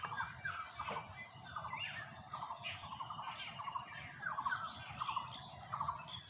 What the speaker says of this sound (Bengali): এই বসন্তকালে যত পাখি ডাকে,